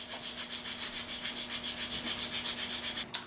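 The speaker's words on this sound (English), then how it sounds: "Just let the sanding stick run across it." Steady back-and-forth rasping of a sanding stick on a scratchbuilt model part, about twenty even strokes in a quick regular rhythm, close up and fairly quiet.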